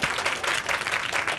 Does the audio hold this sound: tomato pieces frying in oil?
no